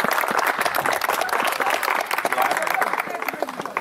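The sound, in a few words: applause at an award ceremony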